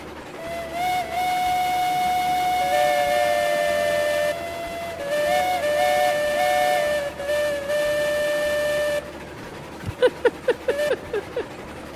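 Steam locomotive whistle in the train game Railroads Online sounds in several long, loud blasts with slight pitch shifts over a steady hiss, then gives way to rhythmic chuffing and clanks.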